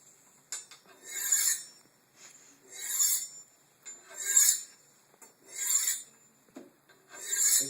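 A knife blade is honed on a sharpening steel in five or six evenly spaced rasping strokes, each a bright metallic scrape with faint ringing, close and alone.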